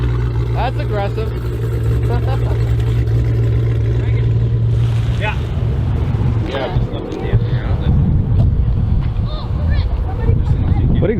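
Hemi V8 fitted with long tube headers, a cam and a Borla ATAK exhaust, its loud rumbling idle and revs running throughout, with people talking over it close by.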